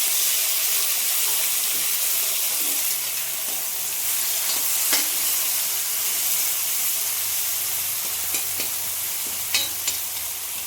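Two chopped tomatoes dropped into oil spiced with panch phoron, frying in a pan with a steady close hiss and sizzle, punctuated by occasional spatula scrapes and small pops over about ten seconds.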